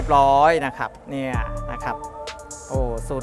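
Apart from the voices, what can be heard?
No distinct noise like a dog, phone or traffic.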